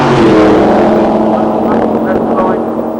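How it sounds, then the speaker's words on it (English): Doorslammer drag racing cars roll forward into stage at Santa Pod during the 1990 Thunderball meeting, their engines a loud, continuous rumbling roar that eases slightly toward the end. "So both our cars moving forward into stage."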